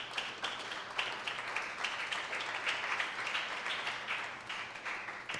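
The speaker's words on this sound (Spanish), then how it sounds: "Alabe al Señor y dele un aplauso," A church congregation applauds during a worship service, a dense, steady patter of many hands clapping at moderate volume that continues throughout without pause.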